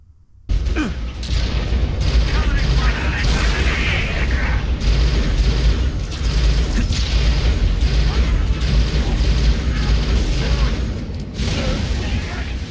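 Plasma fire from the Pulse Carbine in Halo Infinite, heard as loud, dense, continuous combat noise with repeated booms and bursts from start to finish.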